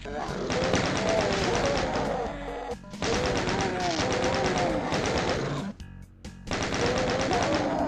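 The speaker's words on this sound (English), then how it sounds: "Now I shoot you from outside the cell." Sustained bursts of rapid gunfire in a DOOM mod, loud and close, broken by brief pauses between volleys, with no talking over the shots.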